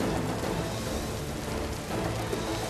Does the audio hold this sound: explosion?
no